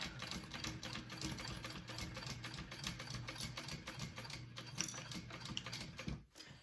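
A sewing machine stitches a fabric gusset onto a backpack in a continuous circle, running as a steady, close, rapid mechanical clatter throughout with a brief pause near the end.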